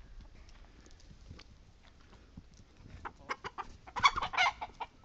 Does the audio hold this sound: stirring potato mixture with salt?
no